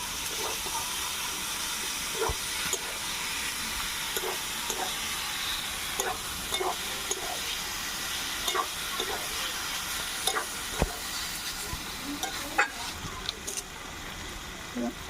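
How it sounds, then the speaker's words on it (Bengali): Boiled potatoes and banana flower fry in a pan with a constant sizzle, while a spatula scrapes and knocks against the metal in irregular stirring strokes, close and clear. "সিদ্ধ করে রাখা আলু আর মোচাটা দিয়ে দেব দিয়ে একটু নাড়াচাড়া করে নেবো"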